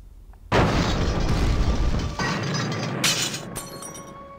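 A sudden loud explosion bursts out, followed by a long rumbling roar and crackling debris, with sharp cracks of breaking material toward the end.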